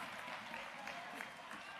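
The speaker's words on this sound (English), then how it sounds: "you can clap hands for me" Conference delegates clapping their hands in a steady patter of applause, fairly quiet and distant throughout the short stretch.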